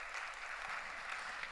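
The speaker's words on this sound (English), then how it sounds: "Can we have a huge round of applause, ladies and gentlemen?" Brief, fairly distant applause from a convocation audience at a university campus in Dubai, a soft, even wash of clapping with no voices.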